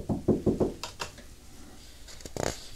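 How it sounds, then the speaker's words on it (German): Knocking on a door from outside: a quick burst of four firm knocks, then a couple of lighter taps and a final short cluster of raps, close and clear with no talking. "Dann geht er leise aus dem Haus und er klopft von draußen an die Tür."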